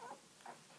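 Two-and-a-half-week-old puppies squeak in a couple of faint, short high chirps, soft and close with no talking.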